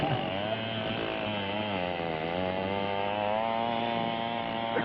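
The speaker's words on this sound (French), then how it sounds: "je suis avec la tronçonneuse entre les mains. J'entaille l'arbre." A chainsaw cuts into an okoumé tree in the Gabon forest near Ndjolé, its engine droning loud and close in a steady, unbroken whine that rises slightly in pitch under load.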